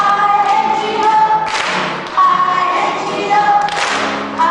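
Hands clap in place of the letter B in the children's Bingo farmer-and-dog song, sharp bursts landing in rhythm between sung letters over a steady musical backing.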